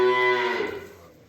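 A young calf, offered for sale alongside Danish Jersey and German breed cattle, lets out a single loud, drawn-out moo that fades away over about a second, heard alone at close range.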